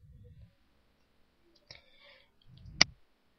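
A computer mouse clicks once, a sharp isolated tick amid near silence, with faint soft rustles just before it.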